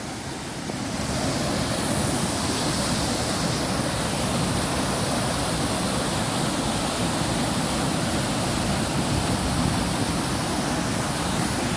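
A powerful, steady roar of the Narmada River rushing over rocks at Dhuandhar, loud and continuous without a break.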